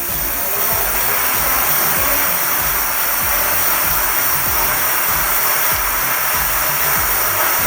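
Rear hub motor of a Lankeleisi X2000 e-bike, spinning freely with the wheel lifted off the floor, makes a steady, loud whirring hum with a faint pulsing rhythm, close and continuous without talk.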